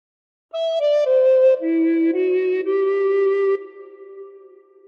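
Recorder playing a slow phrase of The Star Spangled Banner, a run of clear sustained notes stepping down in pitch, loud and close, fading out at the end.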